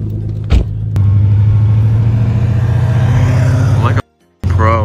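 A Nissan GTR rumbles loudly at close range as it creeps into a garage, a steady low engine drone ending in a sudden cutoff before a short rattle resumes.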